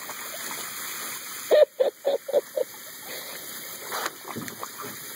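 Garden hose water spraying and splashing at a pool: a steady rushing hiss with a run of short bubbly gushes as the stream is moved around, fairly close.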